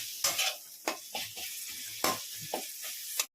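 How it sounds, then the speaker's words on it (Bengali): Bombay duck (loitta) fish pieces dropped into spice masala frying in a pan, giving a sizzle with sharp bursts of spattering and stirring scrapes that repeat every half second or so, close and fairly loud. "মশলাটাকে একটু কষে নেবো কষে এর মধ্যে আমি লইটা মাছগুলো দিয়ে দিচ্ছি"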